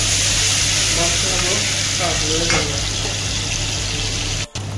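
Garlic frying in hot oil in a pot, a steady loud sizzle that runs throughout with some stirring and clinks, and a voice speaking faintly beneath it.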